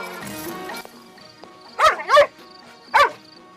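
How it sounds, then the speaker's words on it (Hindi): A dog barks repeatedly at one spot, three sharp barks at fairly close range following a short stretch of faint background murmur. "ये कुत्ता एक जगह देखकर बार बार क्यों भौंक रहा है?"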